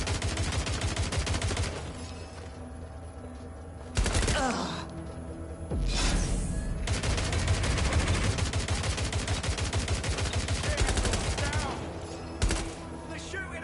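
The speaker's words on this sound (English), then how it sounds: "They're shooting at us!" Gunfire from enemies in Watch Dogs: Legion, sustained dense shooting with a few louder bursts standing out against a busy, continuous game mix.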